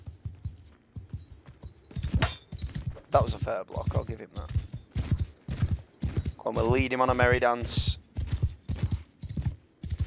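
Horse hooves clip-clop in the Mount and Blade Bannerlord video game, a steady rhythmic series of close, sharp hoofbeats with creaking gear, running under a man's speech and a horse's whinny.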